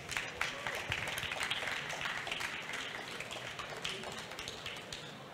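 Audience applause at a literary reading event, steady dense clapping filling the whole stretch at moderate level with no speech over it.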